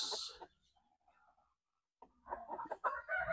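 Ulikba breeder chickens, hybrid black-meat fowl, give a few short clucks and calls close by, separated by a brief quiet gap before a busier burst of clucking.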